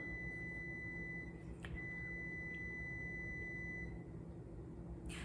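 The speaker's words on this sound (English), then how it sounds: "so that's my laundry. It's probably gonna beep again later" Faint electronic beeps from a laundry machine sound twice over a steady low hum of room noise, a short tone near the start and another a second later.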